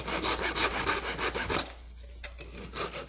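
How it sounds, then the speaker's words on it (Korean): Wooden body of a haegeum, a Korean fiddle, being hollowed out inside by hand, with close, steady rasping and scraping strokes in a quick rhythm that pause briefly, then resume more faintly. "이 속 파는 작업도 이쪽 부분은 좀 두껍게 해주고 이쪽 복판 붙이는 약간 얇게 하면서 해야 소리가 모아갖고 아름다운 소리가 나오지"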